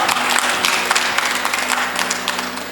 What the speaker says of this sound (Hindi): बड़ी जोरदार तालियां।